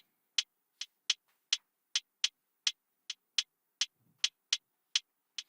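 A light Afrobeat percussion loop of crisp, high ticking hits in a steady groove, varied velocities making some accents louder than others, fairly quiet and alone.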